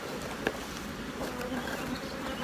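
Honeybees buzzing around an open hive, a faint continuous hum of many insects with a brief tap near the start, fairly quiet and steady.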